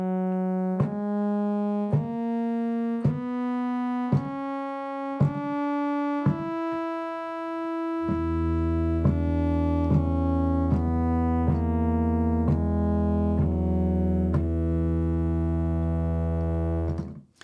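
A Serum synth in a custom tuning steps up an E Lydian dominant scale one clean note at a time, then a sustained low drone enters beneath while the bright notes continue in an even rhythm.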